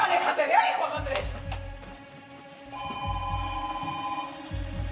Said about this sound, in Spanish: Un teléfono, que está sonando un teléfono.